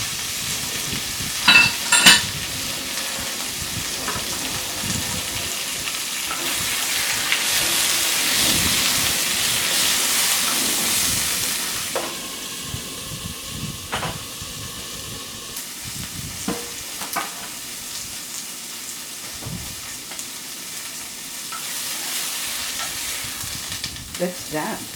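Spinach, garlic and pepper sizzle steadily in a frying pan, a loud continuous crackle and hiss that swells and eases as the vegetables are stirred.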